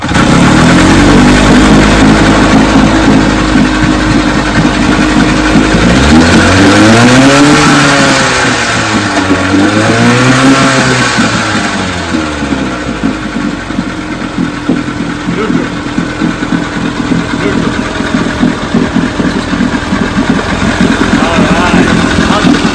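A vintage Evinrude or Johnson outboard motor runs loud and close, its engine pitch sweeping up and down through repeated revs before settling into a steady rough run, with people talking over it.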